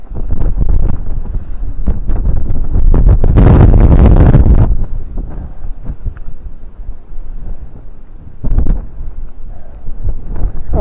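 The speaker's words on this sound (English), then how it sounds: "oh, this wind." Strong gusts on an open Welsh hillside buffet the microphone with loud, rumbling roars that surge, ease off and return, with no talking heard.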